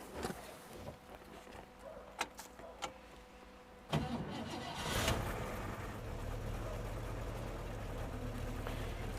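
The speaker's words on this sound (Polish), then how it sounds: "Odpalę Wam jeszcze ten samochodzik, y, żebyście mogli posłuchać V8 z 58 roku." A 1958 Chevrolet Corvette C1 convertible with a 4.6 L V8 and original dual exhaust cranks over after a few clicks and catches, then settles into a steady, fairly quiet idle up close.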